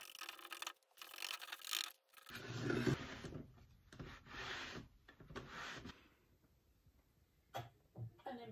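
Watered-down whitewash paint being wiped back on wooden furniture, heard as close rubbing and scraping strokes in uneven bursts with short pauses between them.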